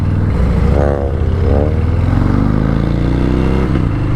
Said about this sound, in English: Oh my god, that popping, it sounds so good.